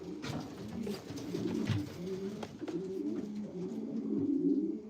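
Pigeons cooing in a breeder loft, a soft continuous chorus of low, rolling coos from several birds close by, with no voices.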